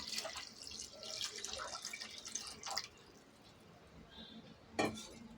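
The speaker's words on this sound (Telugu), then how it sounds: "అందులో మనకి ఎన్ని నీళ్ళు కావాలో అన్ని నీళ్ళు పోసేసుకుందామండి" Water trickles and splashes into a vessel for a few seconds, fading to quiet near the end before a brief metallic clink.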